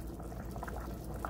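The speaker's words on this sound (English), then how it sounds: "They're boiling. Got to get them to a good rolling boil." Water boiling in a pot of noodles for turkey noodle soup, a steady low bubbling and churning that stays soft and continuous throughout.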